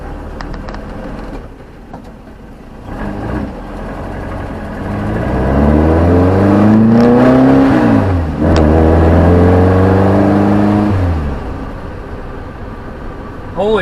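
A VW Beetle with freshly replaced rear IRS wheel bearings drives down the road, its engine loud and close, pitch rising as it accelerates, then holding a steady drone before easing off.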